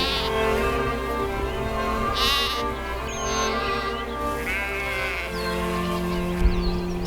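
Sheep and lambs bleat on a farm in spring, several overlapping calls near and clear, rising and falling in repeated cries over a faint background hum of insects.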